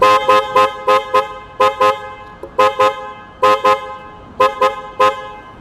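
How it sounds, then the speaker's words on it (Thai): An aftermarket horn fitted with a delay control on a Triumph Bonneville T120 touring motorcycle blasts in loud, bright toots, mostly paired in quick doubles with short gaps between groups and nothing else heard. "ชุดควบคุมดีเลย์แต่นะครับเดี๋ยวฟังเสียงแต่กันหน่อย"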